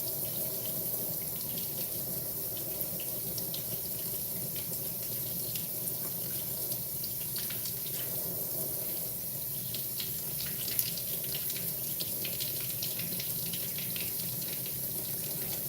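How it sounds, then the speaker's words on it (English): Tap water runs steadily into a kitchen sink during dishwashing, a continuous moderate splashing stream with faint clinks, no talking. "I don't know how this water's gonna sound on the stream"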